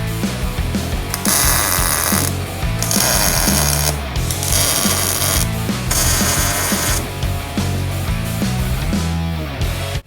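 Tack welding steel step notch pieces for a 1955 Chevy truck frame, with a series of loud crackling welding bursts separated by short pauses, close and alone.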